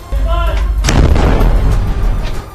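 Heavy gunfire and explosive booms ring out during an Israeli army ground operation at Al-Shifa hospital in Gaza, a loud close blast after a brief tonal sound, followed by a rumbling, crackling tail.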